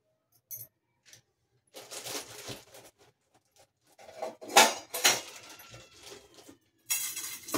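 A metal kadai pan being set down on a stove, with scattered metallic clanks and knocks and a brief splash of oil being poured in, close and intermittent with quiet gaps.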